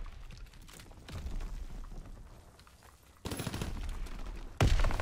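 Machine pistol fire in the Call of Duty WW2 video game, rapid bursts of shots that get louder toward the end, with a final loud burst, and no voices.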